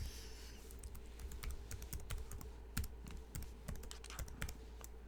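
Someone types a username and password on a computer keyboard, a close and fairly quiet patter of irregular key clicks with short pauses between bursts.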